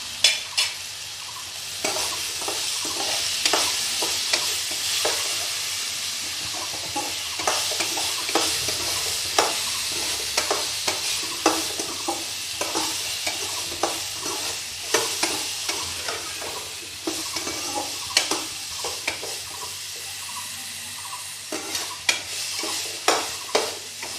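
Turmeric and cumin fry and get stirred in a pan for a kulthi dal with fish, with a steady sizzle broken by frequent scraping spoon strokes throughout, close and moderately loud with no talking.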